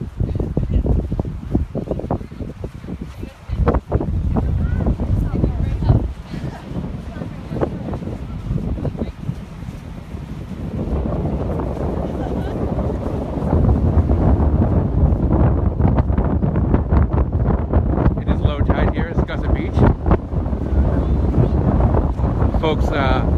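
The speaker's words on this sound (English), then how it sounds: "Furious winds today, but we're going to do our best to reduce the wind sound here" Furious wind on Scusset Beach buffets the microphone in loud, uneven low rumbles and gusts, easing briefly then returning stronger and steadier; voices talk faintly under the roar at times.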